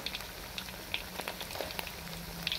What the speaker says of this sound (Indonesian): Kita goreng ikan nilanya